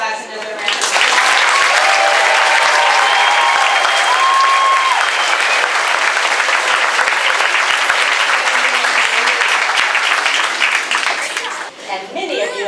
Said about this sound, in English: Please give my class another round of applause.